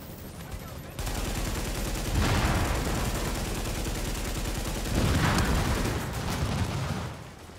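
Sustained machine-gun fire in The Division Incursion gameplay, a dense continuous rattle starting about a second in and running loud and steady to near the end, with two heavier surges.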